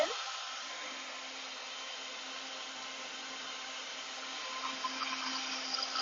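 Blender whirring as it makes béarnaise sauce with shallot, a steady loud motor drone with a constant hum held for several seconds, close by and alone.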